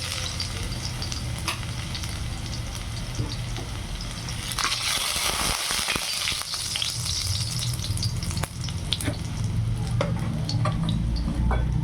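Crushed garlic fries in hot oil in a kadhai while being stirred, a dense continuous sizzle with scraping of the spoon against the pan, close-up and loud, no talking.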